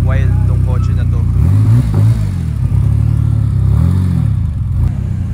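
The 600hp Blackbird car from Wangan Midnight, built by Gunther Works, idles with a deep, loud rumble and revs up sharply twice, its engine note swelling and falling back each time.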